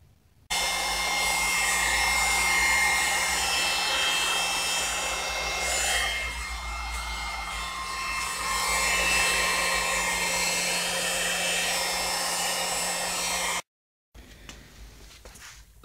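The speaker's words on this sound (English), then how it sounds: "So I used the heat gun on the other side" A heat gun blows steadily on the rear bumper of a 1998-2003 Toyota Sienna, a loud continuous whooshing roar with a fan whine that dips briefly midway and cuts off near the end.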